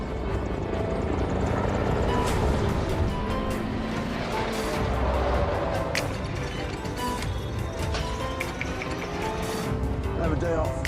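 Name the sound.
helicopter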